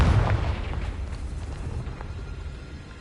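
The Confringo fire spell in Hogwarts Legacy bursts with a heavy, rumbling explosion at the very start. A deep roar then slowly fades over a few seconds with faint crackling debris, and no speech is heard.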